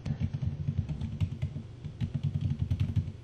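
A password being typed on a computer keyboard during a Windows Server 2003 installation, heard as a quick, continuous run of close, crisp key clicks with no talking.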